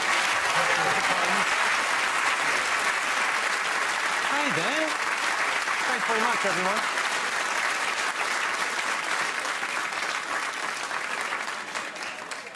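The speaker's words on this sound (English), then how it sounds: "Give them a round of applause." A television studio audience at a comedy game show claps loudly and continuously, a thick wash of applause that fades slightly at the end, with someone speaking briefly over it.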